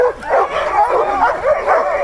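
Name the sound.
sled dogs barking before a run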